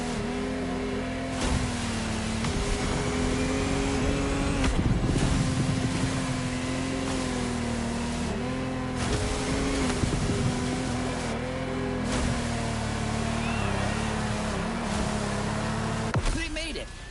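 Lamborghini Technomar speedboat engine racing across water in The Crew Motor Fest, a steady loud motor drone with a strong low hum throughout, with talk over it and a brief drop near the end.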